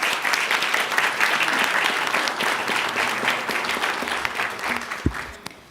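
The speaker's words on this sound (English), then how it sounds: "Let's give him a round of applause." An audience at an Alabama Board of Education meeting claps for a state teacher of the year. The dense, sustained applause fades slightly toward the end.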